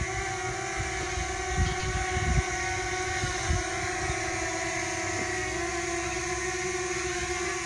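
Drone rotor noise while the drone is turned in place, a steady close buzzing hum with fixed tonal whine and faint wind-like rush, a few low thumps along the way.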